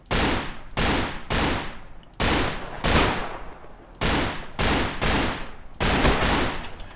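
Loud shotgun-like blasts in Anarchy: Wolf's Law, about nine booming shots at uneven intervals of half a second to a second, each with a sharp attack and a short decaying tail, close and alone.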